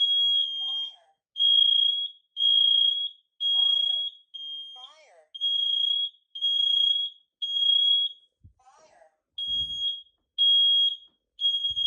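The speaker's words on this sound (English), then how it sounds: "Too much smoke. Alarm cannot be hushed." Kidde wireless smoke alarms sound a loud, close, high repeating beep in regular pulses of about a second, with a synthetic voice speaking between some of them and a couple of soft knocks.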